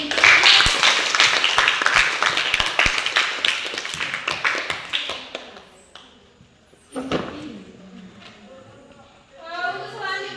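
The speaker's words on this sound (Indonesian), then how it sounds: "Beri aplaus lagi." A classroom of students clapping in applause, a dense burst of hand claps that thins out and stops, followed by a teacher's voice speaking.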